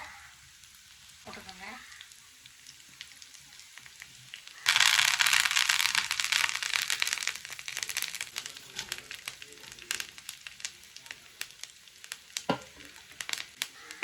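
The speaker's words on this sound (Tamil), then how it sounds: "எல்லாத்தையும் நல்லா தேங்காய் எண்ணெயில் ரோஸ்ட் பண்ணிக்கோங்க." Mustard seeds and garlic frying in hot coconut oil in a pan while preparing coconut rice, a sudden loud sizzle with dense crackling and popping that continues steadily, with faint stirring, and no talk.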